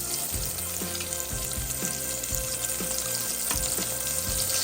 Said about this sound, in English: I'm gonna dip it into the oil.